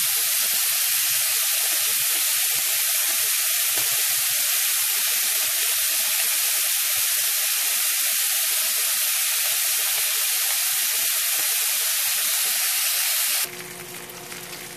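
A steak sizzles hard in a hot pan, a dense continuous crackling hiss that stays loud and even for most of the stretch before cutting off abruptly near the end, with no voices.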